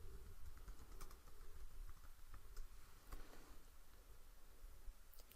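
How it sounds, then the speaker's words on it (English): Computer keyboard typing, very faint light key taps scattered over a low background hiss, with no talking. "you could type in his information here"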